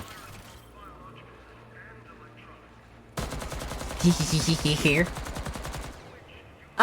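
Turret gunfire in the Warframe video game bursts in suddenly as a rapid, loud string of shots that lasts about three seconds over quieter game sounds, then cuts off.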